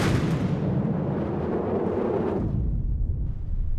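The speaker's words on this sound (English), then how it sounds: "Oh, that's an explosion." A loud, booming blast in the naval combat game From the Depths, a heavy rumbling burst that rolls on for a few seconds and then tails off into low residual rumble, with no talk over it.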